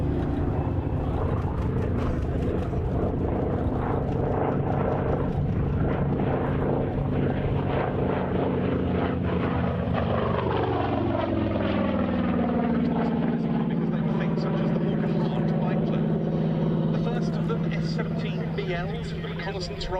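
A Saab 17 with a 1,065-horsepower Pratt & Whitney radial engine drones loud and steady at an airshow, its pitch sliding downward midway as it passes, with someone talking throughout.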